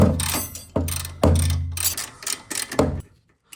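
A ratchet unbolts the brake caliper mounting bracket on a 1998-2002 Toyota Corolla, producing several loud, close bursts of rapid mechanical clicking that stop abruptly, with no voices.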